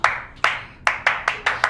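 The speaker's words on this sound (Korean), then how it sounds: "자, 박수." Several sharp hand claps ring out in an uneven rhythm, about seven close, crisp claps with short gaps between them, no talking.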